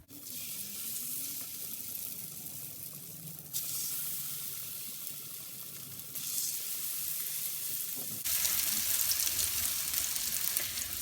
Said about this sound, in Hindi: इसी तरह हम दूसरी भी फ्राई कर लेंगे।